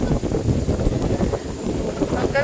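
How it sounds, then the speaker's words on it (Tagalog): Strong wind roars and buffets continuously, a dense rushing noise close to the microphone. "Nakakatakot kasi gumagalaw yung puno sa sobrang lakas ng hangin."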